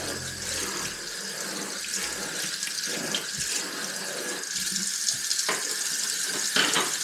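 A tap runs steadily into a sink during washing, a continuous splashing stream with small shifts as hands or items pass under it, fairly close and with no talking.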